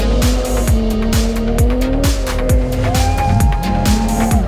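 A Datsun 240Z classic rally car is driven hard on a rally stage, its engine revving loud and close through repeated gear changes, with tyre squeal and skidding.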